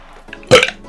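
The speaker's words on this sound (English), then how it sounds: "Oh, I just burped." A single loud, close burp erupts about halfway through, a short voiced belch that rises abruptly and fades within half a second, with quiet room noise before and after.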